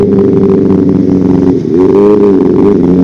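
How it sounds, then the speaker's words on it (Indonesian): A Kawasaki ZX25R motorcycle engine rumbles loudly and steadily nearby on a road, with a smooth multi-toned drone that dips briefly and then rises again as the engine revs. "Motor apa tuh? Jetek 25R cuy."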